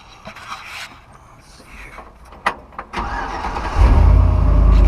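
A 1952 Chevrolet fitted with an LS engine cranks briefly after some quiet clicks and shuffles, then fires up and settles into a loud, steady, close-up idle rumble.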